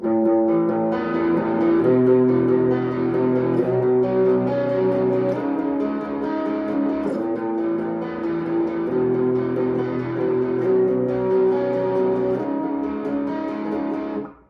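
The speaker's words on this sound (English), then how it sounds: "It's going to be clean, so like I said, delay and reverb." A clean electric guitar plays a slow melodic line, notes ringing out with delay repeats and a wash of reverb, ending abruptly.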